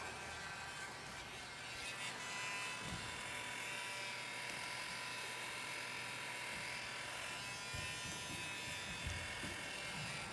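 A heat gun runs steadily with a broad hiss and hum in a boat building workshop, one unbroken near blast with a few faint knocks and handling noises beneath it.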